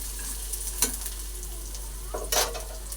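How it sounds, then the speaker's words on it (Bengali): Onion, chilli, ginger, garlic and peanuts fry in a pan with a steady close sizzle, broken by a few sharp scrapes of stirring. "এবারে আমি দিয়ে দেবো কিছুটা বাদাম, আর একটু ভালো করে ভাজা ভাজা করে নেব।"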